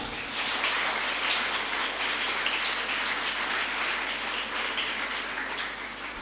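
An audience at a Defence Day school event in Sialkot applauds to welcome a class 7 student speaker, a steady, dense patter of clapping that holds for several seconds without voices.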